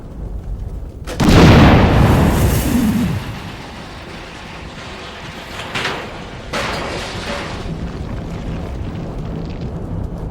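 A single heavy explosive blast at an oil well fire in Kuwait erupts suddenly and loudly, then rumbles and roars for a couple of seconds before settling into a steady background roar of the burning well, with a few fainter thuds after.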